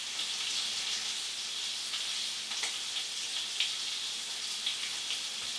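Cabbage and sausage fry in a pan, giving a steady, close sizzle and crackle with small pops throughout and no voices.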